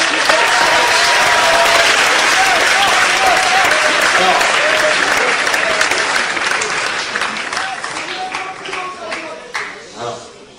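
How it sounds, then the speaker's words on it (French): Loud audience applause from a packed room, a dense roar of clapping with voices mixed in that gradually thins into scattered individual claps toward the end. "vous pouvez l'applaudir et vous accueillir"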